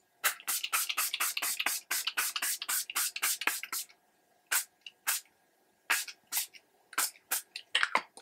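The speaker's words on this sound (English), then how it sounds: "So we're gonna do this spray first." Makeup setting spray misted from a pump bottle in quick bursts, a rapid run of about twenty short hissing sprays, then a pause and several more scattered sprays, close and alone with no talk.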